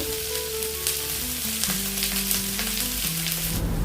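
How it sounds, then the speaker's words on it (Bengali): Onions frying in hot oil until reddish brown, a loud, steady crackling sizzle that fills the whole stretch, close by and unbroken, with no voices. "আমার এই যে লাল লাল করে ভেজে নেওয়া হয়ে গেছে"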